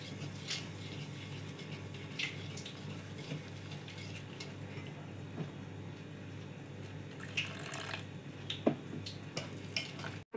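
Egg bhaji batter being stirred in a bowl, a steady wet scraping and sloshing that runs for several seconds, close and moderately quiet, with a few sharper clinks near the end and no talking.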